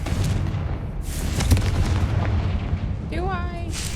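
Confringo fire spell explodes in Hogwarts Legacy, a loud, heavy booming blast with rumbling low end that rolls on for seconds, with a brief voice and a rising tonal whine near the end.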